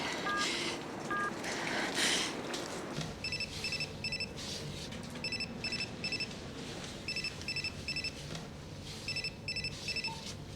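Someone dials on a borrowed mobile phone, and a steady run of short electronic key beeps comes in quick clusters across several seconds over a low background murmur, after a few louder noises at the start.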